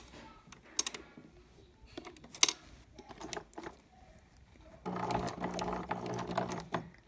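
A few scattered handling clicks and rustles give way to a sewing machine stitching a costume top, a short steady burst running for the last couple of seconds, close and alone.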